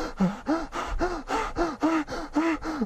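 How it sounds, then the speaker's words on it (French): A short, fearful gasping breath taken through the mouth, repeated in quick, tense intakes about every half second, close and fairly loud with no talking. "vous avez une respiration courte et ça vient en pleine bouche"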